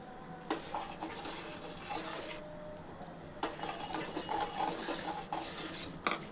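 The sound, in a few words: stirring sugar into dissolved agar agar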